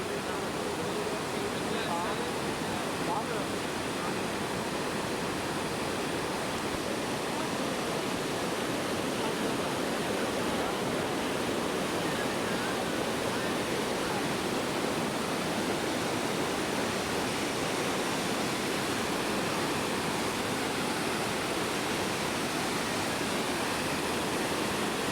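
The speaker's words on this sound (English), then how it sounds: "a little waterfall" Small waterfall in the High Tatras mountains of Slovakia, a steady, dense rush of falling water that holds constant and fairly loud for the whole stretch, with no pauses.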